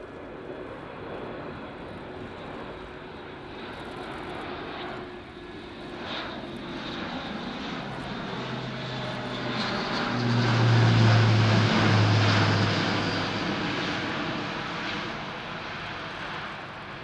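An Airbus A400M Atlas four-engine turboprop military transport performs a flying display at the RIAT 2014 air show, its loud propeller drone building to a close pass before easing away, with no talking.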